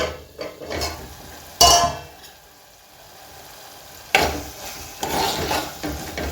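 Tomato masala frying in oil in a pan gives a steady low sizzle, with two sharper bursts of stirring and scraping partway through. Between the bursts the sizzle drops to a quiet simmer.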